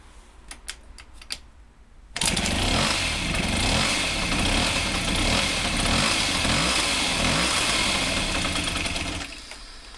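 A Honda Vision scooter engine with a worn-out cylinder and piston starts after a few faint clicks, then runs loud and steady with a rough, rattling idle for about seven seconds before cutting off.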